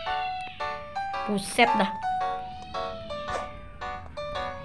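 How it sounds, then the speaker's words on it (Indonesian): Cats fight in the video game Warnet Life 2, their yowls and meows rising over a stream of chiming tonal game sounds, while someone says a few words. "Ada kucing yang berantem."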